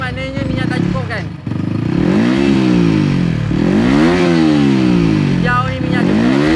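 A modified kapcai underbone motorcycle engine runs loud and close, revving in repeated rising and falling sweeps with a raspy, buzzing exhaust tone throughout.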